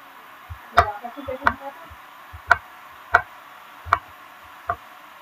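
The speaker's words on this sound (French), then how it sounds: "Excusez-moi pour le bruit du levier." A series of sharp, close mechanical clicks from a lever, about eight in all, spaced irregularly at first and then more evenly, against near silence.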